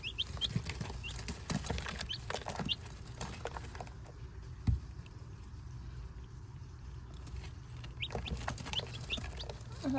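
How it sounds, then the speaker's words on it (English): Baby chicks in a school setting give scattered, high, thin peeps over a background of rustling and shuffling, faint and intermittent with one brief thump. "You guys, we have baby chicks at school."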